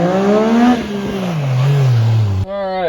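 A Yamaha YXZ UTV fitted with a dead engine start kit starts and pulls away in first gear, its engine revving loud and close with pitch rising and falling, then a sudden shift into another rising rev.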